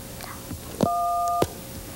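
A touch-tone telephone keypad sounds a dual-tone note: two pitches mixed into one steady beep lasting about half a second. It is clear and fairly loud over quiet room noise, with faint soft sounds just before and after.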